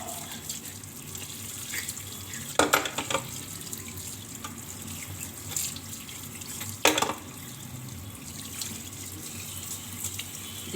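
Fish is washed under a running sink tap, a steady moderate stream of water with two brief louder splashes as the fish is handled, and no speech.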